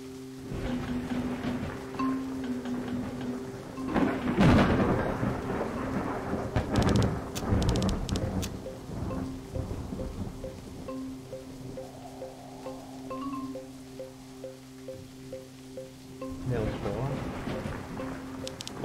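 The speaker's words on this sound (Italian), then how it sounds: "Piove, sono senza ombrello." Rainy thunderstorm ambience in an Italian-commentated adventure video game, with rumbling thunder swelling around the middle and rain hiss throughout, under someone talking.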